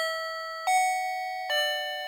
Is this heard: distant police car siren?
no